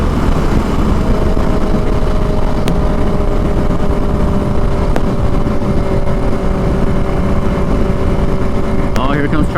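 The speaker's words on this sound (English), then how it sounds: "It's a lot more wind than usual." Heavy wind buffeting on a 2021 Harley-Davidson Iron 883 at highway speed, a dense steady roar filling the whole clip with the engine drone underneath.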